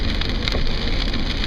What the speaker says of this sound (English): So we got a little bit of rain